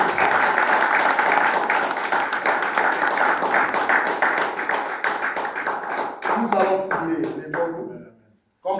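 A church congregation at Sunday worship claps and applauds loudly and steadily, with voices mixed in, before the clapping thins to scattered claps and stops.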